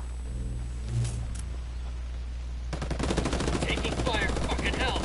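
Gunfire in the video game Ghost Recon during a ranked 4v4 PvP match: a low steady hum first, then a rapid automatic burst of rattling shots that keeps going to the end, with faint voices nearby.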